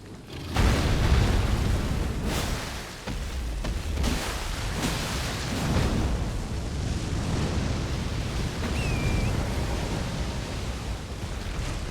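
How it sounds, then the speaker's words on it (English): A fire breath attack in Elden Ring roars as a loud, sustained rushing blast that swells and surges for several seconds. "Fire breath."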